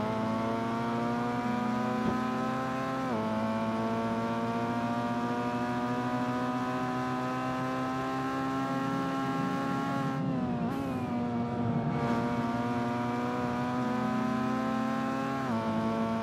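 A Mitsubishi Evo X race car on a track holds a steady, loud engine drone from inside the car, with its pitch shifting at gear changes and a brief rise under hard acceleration, and no talking.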